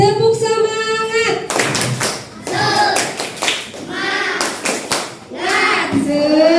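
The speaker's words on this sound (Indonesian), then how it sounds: "Biar makin semangat belajarnya, kita tepuk semangat dulu. Tepuk semangat." A group claps in a quick rhythmic pattern while voices chant along, sharp hand claps alternating with sung syllables in a lively classroom cheer, an Indonesian "tepuk semangat" clapping chant.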